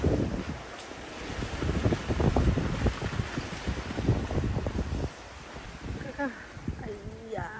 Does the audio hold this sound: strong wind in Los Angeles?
yes